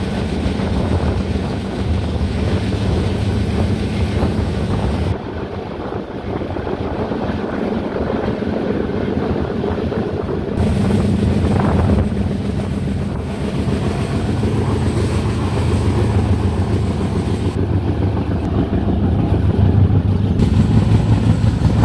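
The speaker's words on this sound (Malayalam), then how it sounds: "ട്രെയിൻ അത്യാവശ്യം നല്ല സ്പീഡുണ്ട്." The Pune-Kanniyakumari Express runs at speed, a loud, continuous rumble and rattle of wheels and carriages heard from on board, with wind buffeting throughout.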